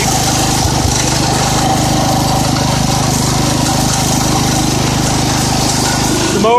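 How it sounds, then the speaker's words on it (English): Loud steady engine hum of a 1970 IH Cub Cadet 127 garden tractor running close by, with a brief mechanical clunk near the start as its electric lift moves the mower deck. "The mower deck going up and down."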